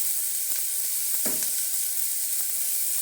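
Onions fry in a pan with a steady, even sizzle throughout, one brief stir scraping in the middle.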